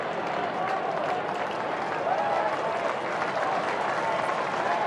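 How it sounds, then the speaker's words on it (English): A stadium crowd at an AFL match between Fremantle and Geelong applauds a player leaving the field, a steady broad wash of distant clapping and crowd noise with a commentator talking over it. "And here's some applause. That's for Matthew Pavlich coming off, having a rest."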